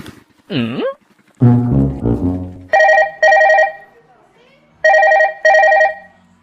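A phone rings in two pairs of trilling bursts after someone speaks briefly, the rings loud and close.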